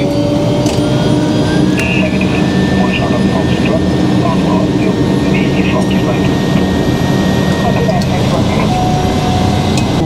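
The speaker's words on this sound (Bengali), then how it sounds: "চালু হয়ে গেছে ইঞ্জিন" Cabin noise from a small single-engine passenger aircraft on a Kolkata to Cooch Behar flight: a loud, steady engine roar and drone that fills the whole clip without a break.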